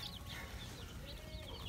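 Chickens cluck in a farm or market setting in Farmville, several short soft calls over a low background rumble, faint and somewhat distant with no talking.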